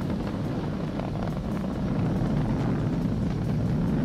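Falcon 9 rocket engines roar steadily through supersonic ascent during the SpaceX Demo-2 crewed Dragon launch, a continuous broadband rumble heard alone with no talk.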